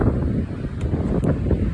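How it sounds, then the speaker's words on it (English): Strong gusty wind roars and buffets the microphone on a hike up Hermits Peak, a loud, constant low rush with rustling and no speech. "It's so windy."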